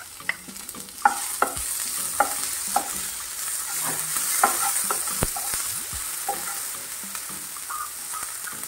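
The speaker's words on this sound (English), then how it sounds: "add the tomato and chili and saute it for a while" Tomato and chili sautéed with onions in a pan, heard as a constant crackling sizzle with sharp spoon scrapes and clicks at irregular moments, close and steady, with no voice.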